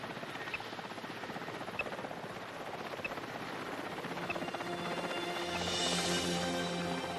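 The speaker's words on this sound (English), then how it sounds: "The helicopter quickly searches the area" Helicopter flying over snowy forest while tracking tigers, a steady rhythmic rotor chop and engine drone at moderate distance, continuous throughout.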